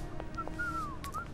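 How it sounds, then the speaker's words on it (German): Someone whistles a short, wavering melodic phrase in the Syberia video game, quiet and thin against faint background ambience, with no talking. "Und hier pfeift jemand."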